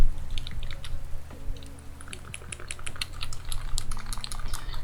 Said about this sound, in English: clicking the triggers of a controller